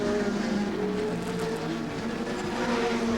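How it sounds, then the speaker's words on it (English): Nissan touring cars race at Wanneroo in the 1989 ATCC, a steady, loud engine roar that holds throughout with slight pitch shifts and no talking. "both the Nissans, Fury and Richards, having a scrap at the moment"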